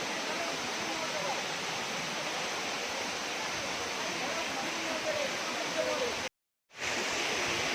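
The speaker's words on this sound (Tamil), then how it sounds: "ஜெகரி ஃபால்ஸ்" Jagari waterfall pours in a dense, steady roar of falling water, close and loud, with a brief gap of silence near the end before the roar resumes.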